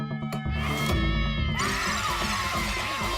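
A cat meows in a drawn-out, wavering cry that rises and bends in pitch, loud and close, with a second sustained yowl following after a brief change in tone.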